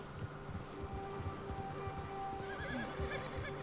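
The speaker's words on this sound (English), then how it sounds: "our horses are kind of loud" Horse neighing and clip-clop hooves from Red Dead Redemption 2, a whinny rising near the end over steady hoof steps and light rain-like rustle.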